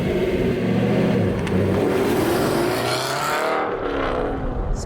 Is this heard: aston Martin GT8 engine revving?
yes